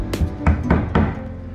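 A hammer prying nails out of old, sappy heart pine in a woodshop, three or four sharp metallic knocks and creaks in quick succession, close and loud.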